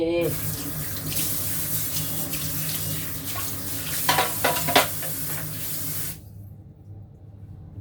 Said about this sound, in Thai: เราก็จะบีบน้ำกิมจิออกนะคะ